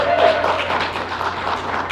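Audience applause at a 2012 Standard-format card game tournament quarterfinal, a short burst of steady crowd clapping, fairly loud and close, with a brief tone near the start.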